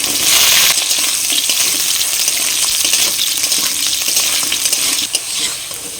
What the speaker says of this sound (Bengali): তেল গরম হয়ে গেছে, প্রথমে আলু আর ঝিঙেটা ভেজে নেব।